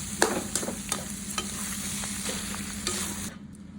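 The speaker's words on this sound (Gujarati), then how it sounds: "મિત્રો હે ને આપણે મસાલાને બરોબર હલાવી નાખ્યો છે" Samosa spice filling being stirred in a pan, with a steady sizzle and repeated scraping strokes of a spoon, close and fairly loud, no talking.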